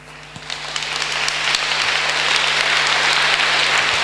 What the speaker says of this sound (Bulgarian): Като пляскате ми взимате от времето